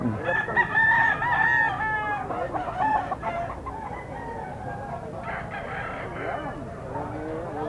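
A ten-month-old gamecock stag crows loudly and close at a pet market, its harsh call followed by clucking amid busy market background noise.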